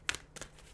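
A deck of tarot cards gets a quick shuffle, two brief papery riffles close by and soft, with no talk over them.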